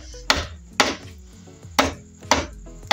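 An axe strikes bamboo in five sharp, evenly spaced chops, each a loud close thwack with a brief woody ring, and no voices in between.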